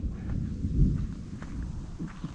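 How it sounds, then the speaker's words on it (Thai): Rain and rumbling thunder over a rural hut near water in Yasothon, Thailand, with a steady low roar of downpour and a deeper swelling rumble in the middle, no voices. "ฝน"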